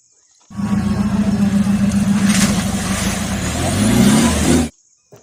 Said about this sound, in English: Wow, this is a Mahindra Jeep.